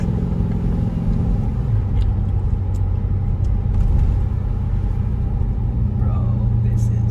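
A Jeep Grand Cherokee SRT with a 6.4L Hemi engine rumbling loudly and steadily, its deep drone shifting pitch as the revs change, with people talking over it.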